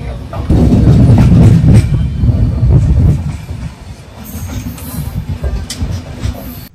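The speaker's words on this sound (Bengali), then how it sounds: "বোলপুর শান্তিনিকেতন থেকে আমাদের ট্রেন এই এখন ছাড়লো।" A passenger train pulls out of Bolpur Shantiniketan station, making a loud, close rumble of wheels on rails with light clatter that eases slightly toward the end.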